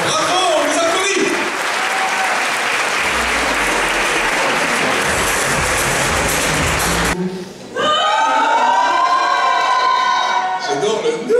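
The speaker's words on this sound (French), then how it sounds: "Bravo, on vous applaudit." An audience applauds loudly during a Miss Rouen beauty pageant quiz, with dense clapping and some cheering for about seven seconds, then a brief drop before a host speaks over music.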